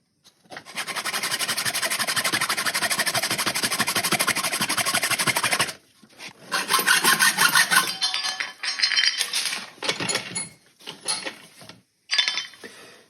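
Hacksaw cutting open a used VW TDI fuel filter, with fast rhythmic rasping strokes for several seconds, then shorter bursts of sawing separated by brief pauses, close and loud.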